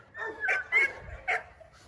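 Dog at a pit bull kennel giving a few short, close yips and whimpering barks in quick succession, loud and alone against a quiet background.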